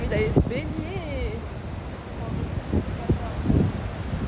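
Steady wind gusts roar against the microphone on a beach in Mirissa, Sri Lanka, with surf noise underneath, while people talk nearby throughout.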